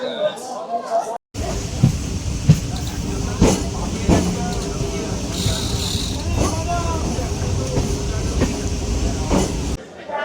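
A train heading toward Namkhana rumbles steadily along the rails, with a continuous clattering drone from the wheels and carriages, while passengers chatter and talk nearby inside the crowded coach.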